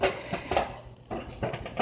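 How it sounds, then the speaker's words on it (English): Food sizzles in a hot pan as it is spread out, with scraping and clinking utensil sounds in short bursts over a steady frying hiss. "Hear them sizzling?"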